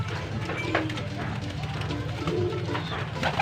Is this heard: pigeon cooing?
yes